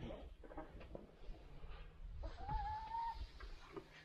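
Chickens at a live-chicken seller in Sarangkot near Pokhara, Nepal, cluck over a noisy outdoor background, with a higher-pitched call rising near the middle; faint chatter and street sounds are heard around them.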